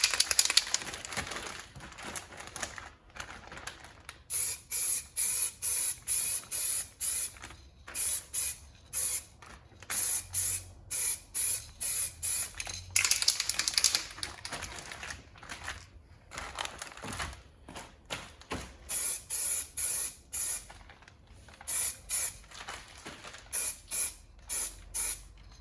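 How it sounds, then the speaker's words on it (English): Short bursts from an aerosol can spraying gloss blue paint onto BMW M3 brake calipers, a steady repeated rhythm of hisses with brief pauses between them, close up and alone. "so let's put the first layer of paint on."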